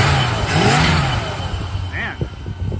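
A 1976 Dodge Coronet CHP 440 police car's V8 engine runs and revs, a rising then settling rumble, close and fairly loud, with brief voices over it.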